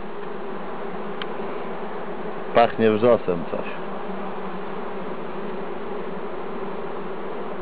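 Honeybees buzz in a steady, close drone throughout at an open Langstroth hive, with a person speaking briefly over the hum.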